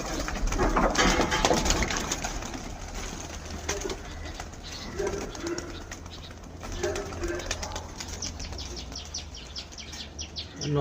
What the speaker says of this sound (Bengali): এই পছন্দ পায়রাগুলো ছাড়ছে।